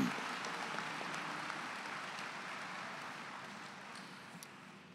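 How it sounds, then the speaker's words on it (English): Audience applause at a 2022 high school graduation ceremony, a steady wash of many hands clapping at moderate distance, sustained evenly for the full stretch without voices on top. "One more round of applause for them."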